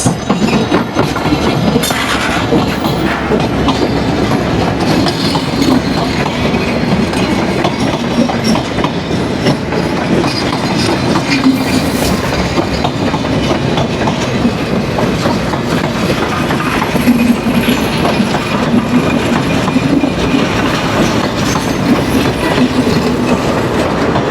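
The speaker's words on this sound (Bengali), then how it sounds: "খুলনা থেকে ছেড়ে আসা চিলাহাটিগামী আন্তনগর রূপসা এক্সপ্রেস" The Rupsha Express intercity train from Khulna to Chilahati rumbles past steadily at Saraghat, Ishwardi, for the whole stretch, with a continuous rhythmic clatter of wheels on rails and a loud, close, unbroken roar.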